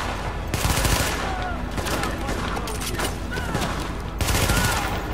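Enemy gunfire in The Division: sustained bursts of rapid automatic fire crackle throughout, with a louder volley at the start and another near the end, over a constant noisy battle din with voices mixed in.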